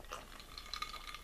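Iced coffee being stirred in a cup, a brief flurry of light clinks and rattling ice, close and soft.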